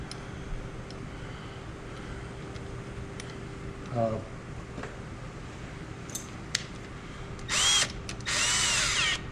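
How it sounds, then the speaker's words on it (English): An electric screwdriver with a clutch drives bolts on a Jeep Wrangler axle during a ring and pinion repair, giving short whirring bursts with clicks, close up in a garage under a low steady hum. "It's just a screwdriver with a clutch, and the clutch is set to like a whole lot of no torque."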